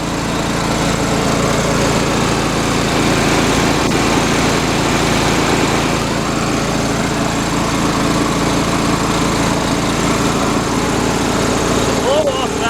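A North Star air compressor runs continuously, its engine drone steady and loud as it fills the tank, with no pauses over the whole stretch.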